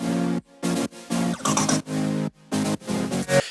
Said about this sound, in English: in part B, the chords come in and they sound like this.